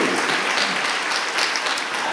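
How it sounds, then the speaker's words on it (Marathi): A church congregation claps together during a Marathi sermon, a dense, steady wash of applause that fills the whole stretch with no pauses. "टाळ्या वाजूया त्यासाठी, फार मोठी गोष्ट आहे."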